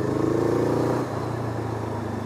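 A Honda CL500 motorcycle rides in third gear on a mountain pass, a steady low engine drone that eases off about halfway as the throttle is rolled back, heard close from the rider's position with no talk.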